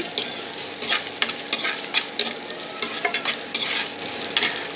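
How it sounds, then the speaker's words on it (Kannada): Green chilies fry in a hot pan with a steady crackling sizzle, broken by repeated scraping strokes of a stirring spoon; close and moderately loud with no voices. "ಇವಾಗ ಇದು ಸ್ವಲ್ಪ ನೀಟಾಗಿ ಫ್ರೈ ಮಾಡ್ಕೊಳಕತ್ತೀನಿ"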